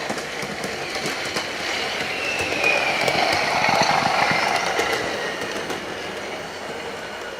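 A Bachmann Class 37 model train rolls steadily along its track with a light, continuous rattle and faint clicking, holding a fairly even level with no talking.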